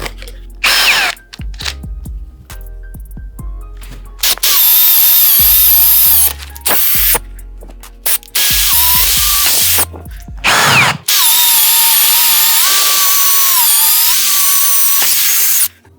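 An Uyustool UY-ITL122 cordless drill bores into wood at speed 1 in several loud whining bursts, some short and some sustained for seconds, separated by pauses.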